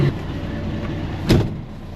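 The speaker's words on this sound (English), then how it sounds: "Big truck." A big truck passes close by with a sharp swell of engine and tire roar about two-thirds through, heard from inside a vehicle over a low steady rumble.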